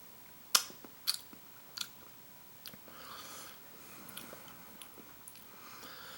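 Close, quiet chewing of a cheese omelet with ham and potato chunks from a 1991 MRE, starting with a few sharp bites and clicks, then turning into soft, wet mastication.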